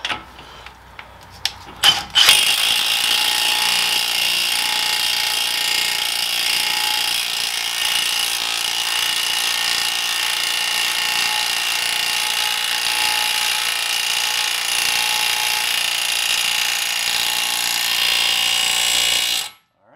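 Steady mechanical whirring and ratcheting from a power tool tightening the large front wheel hub nut on a 2003–2011 Saab 9-3 during a wheel bearing replacement, close and continuous for most of the clip after a few brief clicks.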